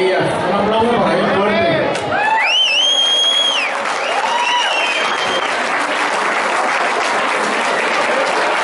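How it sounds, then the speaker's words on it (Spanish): A crowd at a tribute event for Raúl breaks into sustained applause mixed with cheering and sharp whistles, rising after a moment of voices and continuing full and close to the end. "Un aplauso para él."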